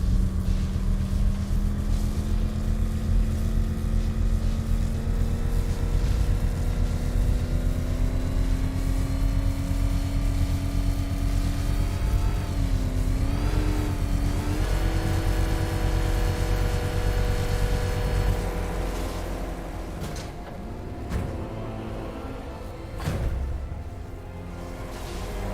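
Vehicle engine in Batman Arkham Knight, a steady loud droning hum whose pitch climbs slowly and wavers before fading lower, with continuous rumble underneath.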